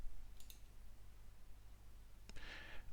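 A couple of faint mouse clicks on a Windows 11 dialog OK button: one short double click early, then a brighter click a couple of seconds later over steady low computer hum.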